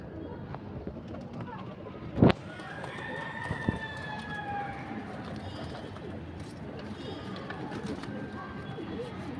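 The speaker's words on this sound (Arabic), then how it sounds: "دي بقى يا جماعه نبذه من الحمام الكبير." Large pigeons coo softly among outdoor background noise, with a sharp thump early on and people talking faintly nearby.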